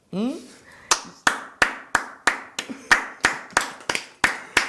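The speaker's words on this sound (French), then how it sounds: "On applaudit très fort, Christelle." Several sharp claps ring out in a steady rhythm, about a dozen in a row after a brief vocal sound at the start, close and fairly loud.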